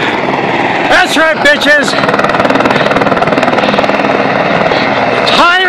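A rescue helicopter flies near a mountain top on Santa Rosa Mountain near Palm Springs, its rotor giving a steady, loud, rapidly pulsing thrum throughout while someone talks over it.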